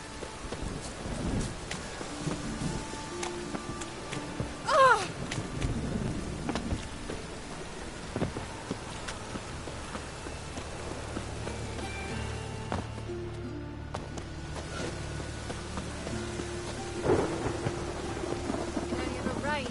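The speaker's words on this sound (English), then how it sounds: "Must be mad running around in this rain." Steady rain pours throughout in a video game, with low thunder rumbling underneath and a brief louder crack near the middle; no voices stand out.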